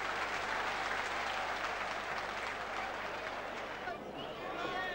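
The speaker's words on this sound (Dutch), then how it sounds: "Applaus, terecht." A stadium crowd applauds during the Ajax versus FC Twente football match, a dense, continuous roar of clapping and cheering close around, easing slightly near the end, with commentary voices mixed in.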